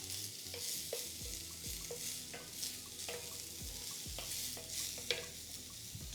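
Onion sizzling softly in melting butter in a pan, a quiet steady frying hiss with scattered light taps and scrapes of stirring, no voices.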